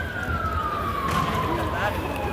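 A police car siren wails with a single slowly falling tone over loud street and traffic noise in Antwerp, steady and fairly close throughout the short stretch.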